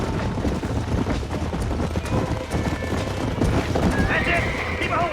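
Lassoed wild horse in Red Dead Redemption, neighing and whinnying over a busy rumble of hooves and struggle, loud and near.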